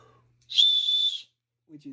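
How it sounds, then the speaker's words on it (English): A single sharp, high-pitched blast from an emergency hiking whistle, loud and steady, lasting under a second, with a faint voice murmuring just before and after. "So they give you a whistle"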